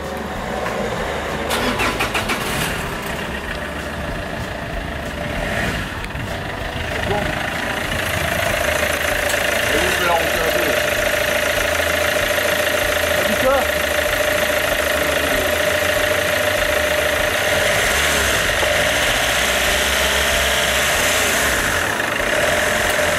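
Peugeot 807 engine cranking, catching and settling into a steady idle after an intake decarbonizing job, close and loud, with a faint mechanical tick in the idle and people talking over it.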